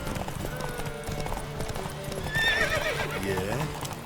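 Roach, the horse in The Witcher 3, galloping with rhythmic clip-clop hooves and a brief neigh, under game voices and background music.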